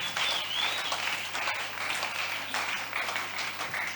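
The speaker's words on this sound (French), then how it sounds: "On applaudit pour le Seigneur." Congregation applauding during a French-language church service, a dense, steady wash of clapping hands that fills the whole stretch at even loudness, with no talk over it.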